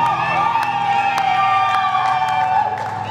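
Wedding guests in a church hall cheer, whoop and shout for joy, a loud, dense crowd roar that continues without a break.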